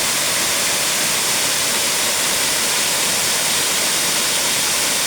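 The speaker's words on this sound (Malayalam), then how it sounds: "വനസമാനമായ അന്തരീക്ഷത്തിൽ സ്ഥിതി ചെയ്യുന്ന വെള്ളച്ചാട്ടം" A waterfall in a forest-like setting roars with a steady, dense, broadband rush of falling water, constant and loud throughout with no voices.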